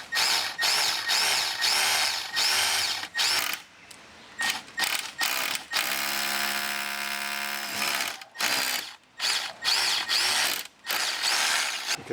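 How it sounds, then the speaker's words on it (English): A small SDS drill with a 6mm bit boring into an outside wall through a socket fixing hole, in loud repeated bursts of hammering whine with brief pauses between them. "So I've now got a small SDS drill, and a 6mm drill bit is in there"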